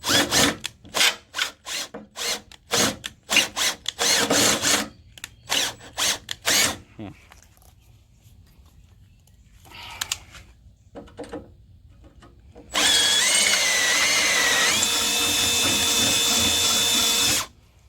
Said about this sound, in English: you got to start the drill bit before you meet the surface